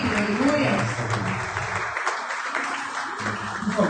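Congregation clapping in praise during an evening church service, a steady broadband patter of many hands for a few seconds, mixed with voices and a dip midway before clapping resumes.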